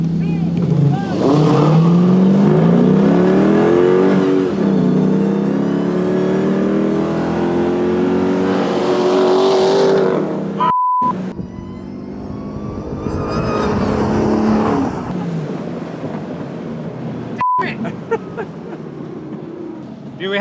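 A 1971 HEMI-swapped Dodge Challenger and a 2022 Dodge Challenger Hellcat SRT racing, loud engines revving and climbing through gears close by, with two sharp breaks and a fainter second run.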